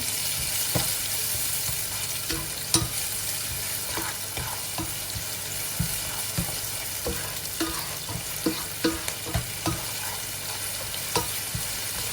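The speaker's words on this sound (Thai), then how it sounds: "ผัดน้ำตาลค่ะ" Sugar for pad thai sauce being stir-fried in a pot, a continuous loud hiss with repeated scraping and knocking of the spatula throughout, some strokes coming in quick bursts.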